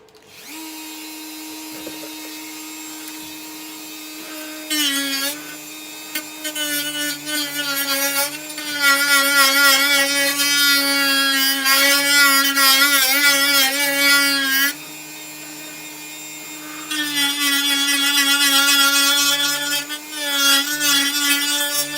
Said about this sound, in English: then I'm going to clean that up with a Dremel